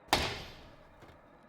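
A front door slams hard in an abandoned house, one loud sharp bang with a lingering echo, followed by a faint knock and another brief hit near the end.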